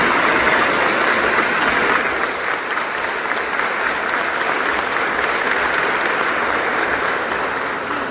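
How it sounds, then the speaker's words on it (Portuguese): A church congregation at a novena Mass for Our Lady of Aparecida claps steadily and loudly to welcome their bishop, a dense, sustained wash of applause filling the space without pause. "Vamos acolher nosso Bispo com a salva de palmas."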